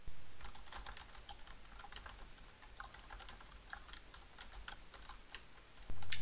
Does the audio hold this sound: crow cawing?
no